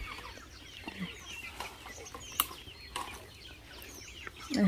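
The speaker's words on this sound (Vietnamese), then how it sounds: "Đây, con gà của chúng em đấy ạ." Chickens on a rural Vietnamese homestead cluck in faint, scattered bursts against a quiet outdoor background, with a louder, closer cluck near the end.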